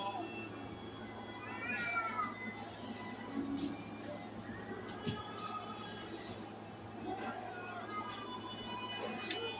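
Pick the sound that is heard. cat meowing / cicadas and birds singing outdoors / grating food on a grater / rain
cat meowing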